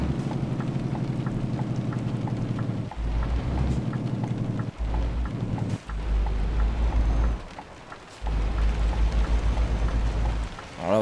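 Dense rain pours continuously in Euro Truck Simulator 2, over a deep low rumble that swells and drops out several times like rolling thunder or a truck engine, loud and steady with no voices.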